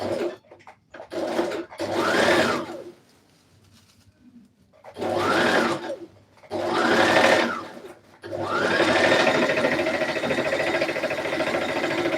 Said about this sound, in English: So I will sew this dart as well.